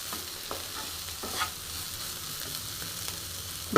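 French bean sabzi sizzling in a pan while being stirred, a constant frying hiss broken by light scraping stir strokes and a louder clatter at the end, with no voices.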